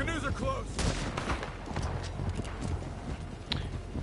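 Springfield rifle shots in Red Dead Redemption 2, sharp cracks scattered among horse hooves clip-clopping and general commotion, with voices talking throughout.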